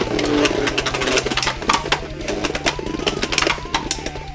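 Beyblade Burst tops, Minoboros Heavy Quake against Odin Heavy Defense, spin in a plastic stadium with a close, buzzing whir and a rapid stream of sharp clacks as they clash and grind along the ridge.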